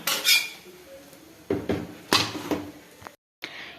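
Metal utensils clank and scrape against a pan and plate as an egg adai is lifted from the pan onto a plate, several sharp close clinks and taps with a brief silent gap.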